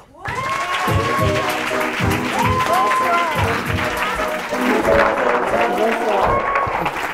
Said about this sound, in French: Je vous demande d'applaudir mademoiselle Bouchra Beno